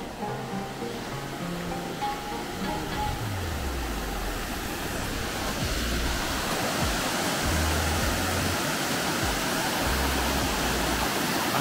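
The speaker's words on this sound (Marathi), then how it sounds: "पाण्याचा खळखळाट तुम्हाला ऐकू येत असेल." A stream near Kundan Dam in Kasara, Shahapur, rushes and gurgles as a steady broadband wash of water, growing fuller and louder partway through, with a low rumble underneath and no talk.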